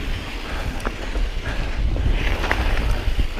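Gusty wind buffets the microphone on a mountain bike rolling over loose sand, a rough, rumbling low roar that rises and falls with a few faint clicks and rattles from the bike, no voices.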